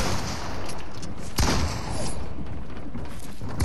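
Gunfire in the video game Fortnite on a crowded random creative map, a dense crackling fusillade of shots with one sharp loud burst in the middle, continuous and fairly close.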